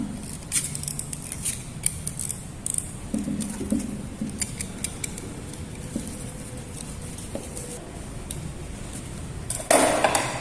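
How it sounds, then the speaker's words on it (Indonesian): Scissors snip through a Nepenthes pitcher plant stem in a series of sharp, close, irregular cuts, with faint birdsong in the background and a louder rustle near the end. "Karena tadi menggunakan cutter tidak terlalu tajam, sehingga saya harus memakai gunting"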